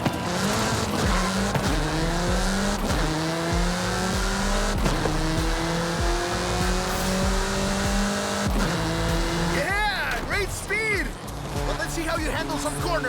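Forza Horizon 5 car engine droning with rising and falling gear-shift sweeps throughout, then sharp swooping tire squeals near the end as the car takes corners, loud and continuous, with a navigation voice and game chatter speaking over it.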